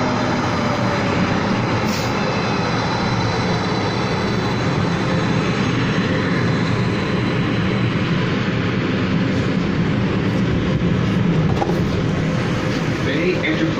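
An Edmonton ETS Siemens SD160 light rail car, number 1040, runs on the Metro Line with a loud, continuous rolling rumble and motor drone heard from on board, with muffled voices in the background.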